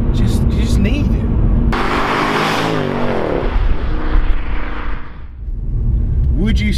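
Mercedes-Benz AMG C63 engine revving loudly and close, a sustained rising roar that peaks and then drops back, with a voice talking over it at the start and end.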